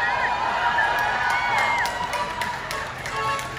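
Concert audience at a Vietnamese overseas singer's show clapping and cheering, a steady wash of applause with scattered shouts and whistles, moderately loud and continuous.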